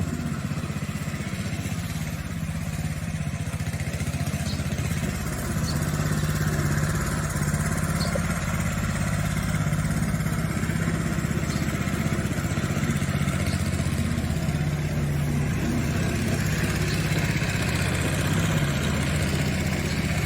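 A Chinese-made mini tractor with a 7.5-horsepower engine idles outdoors with a steady, near, continuous low rumble and no talk over it.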